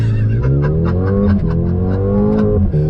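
Loud engine roar of a 2021 Mercedes-AMG GLA 35 SUV accelerating hard, pitch climbing through the revs with brief dips at gear changes, recorded close from inside.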